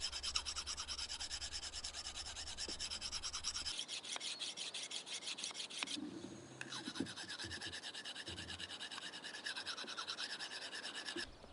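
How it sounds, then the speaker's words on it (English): A cow hoof knife is honed on a steel with light, repeated rubbing and rasping strokes, close and fairly quiet, keeping a steady scraping rhythm with a short pause midway. "You just keep on honing gently with less pressure on the steel."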